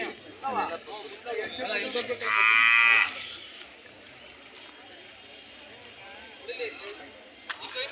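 A cow gives one loud drawn-out moo amid a busy outdoor crowd at the KG Temple cattle fair in Tumakuru district, Karnataka, with people talking and calling throughout and scattered livestock sounds nearby.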